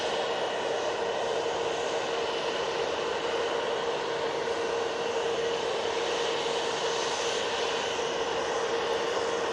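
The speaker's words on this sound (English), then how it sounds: "EasyJet off to Istanbul here" An EasyJet airliner departs Manchester Airport for Istanbul with a constant, even jet engine roar and a faint steady whine, unbroken and fairly distant.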